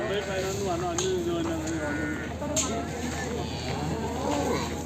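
A long, low buffalo moo drones at close range at the Kondamadugu buffalo market, over busy outdoor background noise, with people talking faintly nearby.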